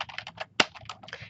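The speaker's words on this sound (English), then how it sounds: "as I start typing it in" Quick, irregular keystrokes on a computer keyboard while entering an Excel formula, close and clear, with one sharper louder tap near the middle and no voice.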